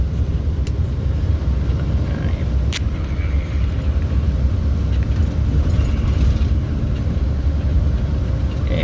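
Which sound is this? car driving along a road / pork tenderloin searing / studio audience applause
car driving along a road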